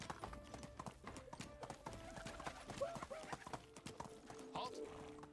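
Horse hooves clip-clop in a steady walking rhythm as a rider travels in the video game Medieval Dynasty, with a faint whinny near the end and brief speech over the top.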